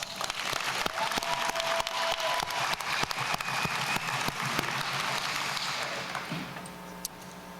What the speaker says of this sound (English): Let's give the inductees another round of applause.